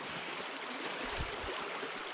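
A stream flows where two streams converge and the channel widens at a small tributary along a series of waterfalls on Old Union Road; a soft, steady broadband rush of water continues throughout with no pauses.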